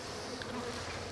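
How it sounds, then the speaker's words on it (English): Honey bees buzz close around a beekeeper during a hive inspection, a steady, faint drone that continues throughout. "These bees are definitely hanging out with me right now, so they're not happy"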